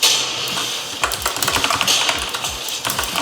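Rapid, close typing on a computer keyboard belonging to a budget $189 gaming PC setup: a dense, uneven patter of sharp key clicks running throughout, with no one talking.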